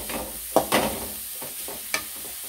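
Carrots sautéing in oil for a simple carrot poriyal, with a faint background sizzle broken by a few sharp spoon scrapes and stirring knocks close by.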